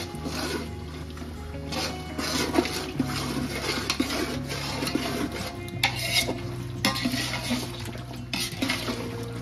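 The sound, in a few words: stirring frying meat with ginger garlic paste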